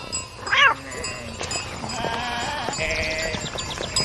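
A single wavering sheep bleat rises near the start, followed by a background of low murmuring and faint rustling.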